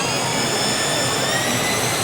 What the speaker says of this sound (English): Get used to the sound of those whirring propellers